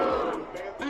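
A stadium crowd booing at a Tampa Bay football game at Bank of America Stadium makes a dense, loud roar of many voices in one short burst.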